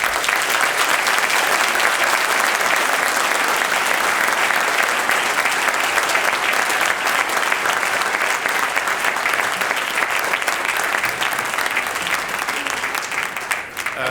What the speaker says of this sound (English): please join me in applauding this presentation